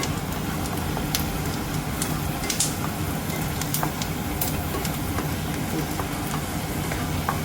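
Flattened rice is stirred and fried in a pan, a loud, dense and continuous sizzle threaded with repeated scraping and rustling from the stirring, close and steady throughout.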